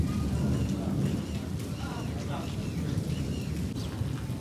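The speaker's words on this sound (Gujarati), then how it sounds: "ગામમાં અચાનક જોરદાર વરસાદ આવી ગયો છે" Sudden heavy rain in a village pouring steadily as a dense, close wash of noise, with low rumbling that may be thunder; no clear speech over the downpour.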